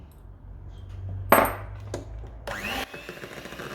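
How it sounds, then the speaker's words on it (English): A spatula scrapes down the sides of a cheesecake mixing bowl: a few short, close scrapes and knocks over a quiet room, ending in one longer rasping stroke. "I'll just scrape down the sides to make sure that everything is properly mixed in."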